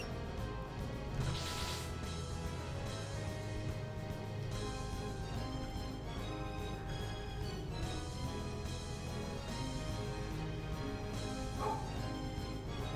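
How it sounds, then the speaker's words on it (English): A dog barks somewhere in the background, fairly faint and mixed into continuous game music and sound effects, with a few scattered yips rather than a steady run of barks. "And the dog is barking."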